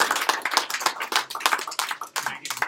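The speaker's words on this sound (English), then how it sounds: "Let's give Erin a round of applause." A round of applause for a speaker named Erin after a talk and Q&A, with many hands clapping densely and continuously at moderate volume through the whole stretch, without pause.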